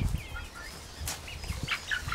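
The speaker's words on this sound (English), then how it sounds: "Damn chickens." Chickens cluck and squawk nearby in scattered bursts, with a few sharper calls standing out against outdoor noise.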